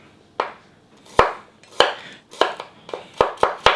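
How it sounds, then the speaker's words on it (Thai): A knife slicing shallots on a cutting board for Thai red curry paste, about eight sharp separate cuts at an irregular pace, close and fairly loud, with no talking. "แล้วก็หอมแดงครับ ผมก็จะหั่นซอยสักหน่อยเหมือนกันครับ"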